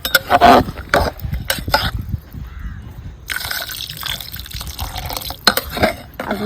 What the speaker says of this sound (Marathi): आता हे घालायचं आपल्याला पाणी